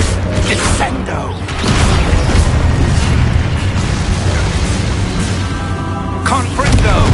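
A Descendo spell blasts in a Harry Potter video game on PS4 with a loud, sustained booming rumble and mechanical crashing, and a voice speaks over the effects.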